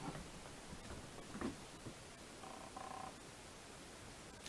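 Soft, faint purring from a kitten in a quiet room, a low rhythmic rumble with a few small clicks and brief mews close by.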